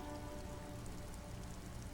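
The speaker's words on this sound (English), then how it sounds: "Rain falls down on the world." Rain falls in the video game Disco Elysium, a steady, dense hiss of drops on surfaces with no break and no voices, quiet in level.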